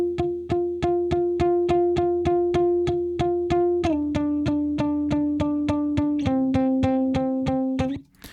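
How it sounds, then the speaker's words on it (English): Electric guitar played palm-muted, single picked notes in a steady fast rhythm of clipped plucks, stepping down in pitch twice before a final louder strum. "So I'm palm muting and picking single notes."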